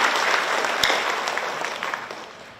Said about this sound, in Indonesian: Tepuk tangan untuk mahasiswa semuanya.